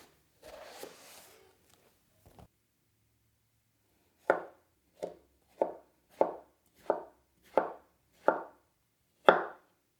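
A knife chops an onion on a small cutting board in eight evenly spaced, crisp thunks, each clear and close, after a brief rustle of handling at the start.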